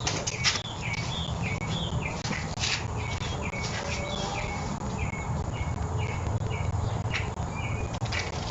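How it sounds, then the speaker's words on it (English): A flock of birds flutters and chirps nearby, a busy patter of wingbeats with repeated short calls over steady background noise. "Oh, these birds are flocking around."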